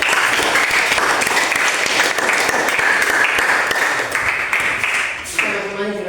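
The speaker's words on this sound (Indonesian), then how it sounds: "tepuk tangan dulu untuk kita semua" Loud, close applause from a school audience, dense clapping that fills the room and fades near the end as a voice begins to speak.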